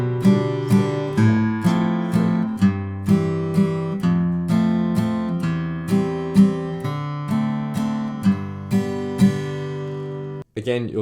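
An acoustic guitar strums the chords of a song in a steady three-beat pattern, one strum on each beat, ringing clearly and close with no talking.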